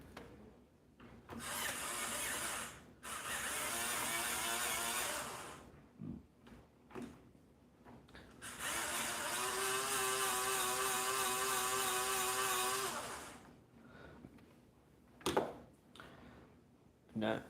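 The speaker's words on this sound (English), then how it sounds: "I get my sharpener." A handheld sharpener grinds a red colored pencil in several rasping bursts of scraping, close and fairly loud, with quiet pauses and small clicks between turns.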